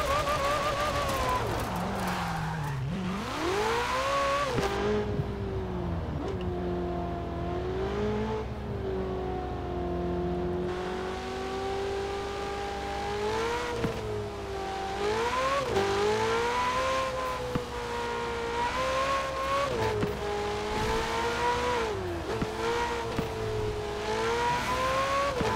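A sports car engine in the video game Forza Horizon 4 drones and revs repeatedly, pitch rising and dropping as the revs climb and fall, steady and close with no talking.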